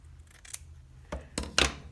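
Scissors cut ribbon for bows in a few short, crisp snips, quiet and close, with a faint hum between the cuts.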